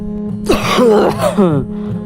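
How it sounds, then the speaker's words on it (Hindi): An elderly, weary man seated on a bus coughs hard and clears his throat in one close, loud, rasping burst with a groaning vocal edge, followed by a softer hoarse tail. "तभी उसे जोर से खांसी आती है"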